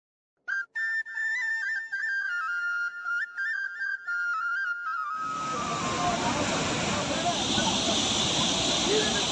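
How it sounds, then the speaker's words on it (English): A mountain waterfall roars with a steady, broad rush of falling water that fills the scene and stays loud and constant, following a stretch of melodic whistling at the start. "a lot of people are visiting here to enjoy the mountain waterfall and the natural sounds of water"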